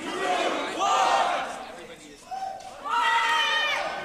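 A beatbox battle crowd shouts loud, ragged calls in unison, two big surges of many voices with a short dip between, close and echoing in a packed hall.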